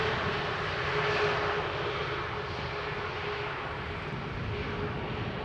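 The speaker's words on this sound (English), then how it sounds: "As we get a little butt shot of the A320 Neo from EasyJet" An EasyJet Airbus A320neo airliner at Amsterdam Schiphol gives a moderate, steady engine roar seen from behind, a faint tonal whine riding over the broad rumble, with no talking.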